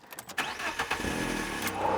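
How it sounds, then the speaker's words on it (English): A Fiat Panda 100hp petrol engine cold-starts with a short cranking burst, then catches and settles into a steady, loud idle close by. "shall we get in and do you want to do a cold start?"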